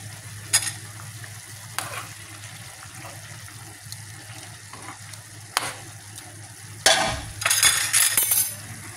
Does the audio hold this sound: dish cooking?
yes